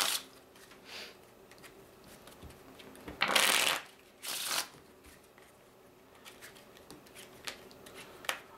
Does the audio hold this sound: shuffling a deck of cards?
yes